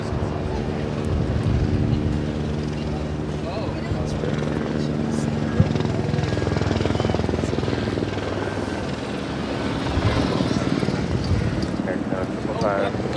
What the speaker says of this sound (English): Japan Airlines and Dreamliner taking off on the north side.